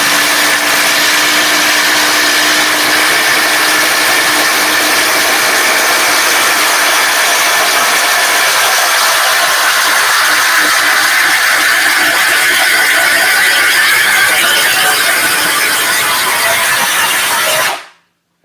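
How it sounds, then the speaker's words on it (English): Ridgid and Hercules impact drivers run side by side, boring 1-inch spade bits through wood with a loud, continuous high-pitched whine and grind. The noise holds steady for about seventeen seconds and then cuts off abruptly. "we'll just do one round of 1-inch spade bits here"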